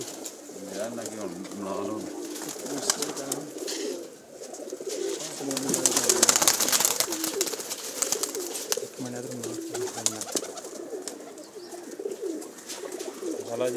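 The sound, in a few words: pigeons cooing at a rooftop pigeon loft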